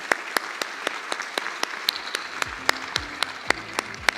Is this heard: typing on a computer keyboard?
no